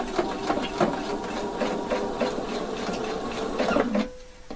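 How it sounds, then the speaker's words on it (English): A sewing machine running in short quick bursts, its rhythmic needle chatter stitching a mandarin collar to a garment's shoulder, close and fairly quiet, ending with a brief steady hum. "Now sew this part to the shoulder."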